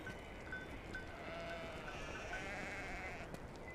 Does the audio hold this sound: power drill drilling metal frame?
no